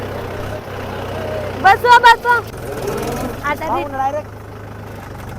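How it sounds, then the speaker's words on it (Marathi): A farm tractor engine idles and runs with a steady low drone throughout, driven on field bunds; voices talk loudly over it. "दांडाला आम्ही ट्रॅक्टर घेतोय"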